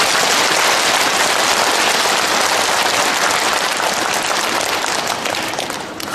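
A church congregation at a Catholic Holy Spirit gathering claps together, a dense, steady wash of applause filling the hall for several seconds before thinning slightly at the end, with no voices over it.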